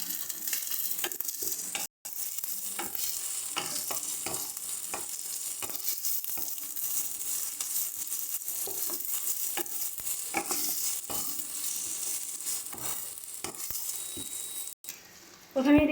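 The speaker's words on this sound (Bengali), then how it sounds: "সমস্ত মশলাগুলোকে ভালো করে পেঁয়াজের সাথে মিশিয়ে নেব।" A spoon scrapes and stirs onions with ginger and garlic paste in a pan while prawn bhuna is being cooked, with a constant soft sizzle of frying beneath repeated knocks and scrapes, close up.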